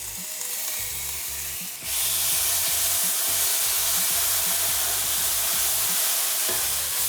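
Tofu with seasonings hitting a very hot pan, a quieter sizzle that surges into a loud, constant hiss after about two seconds, with light stirring underneath, no talking.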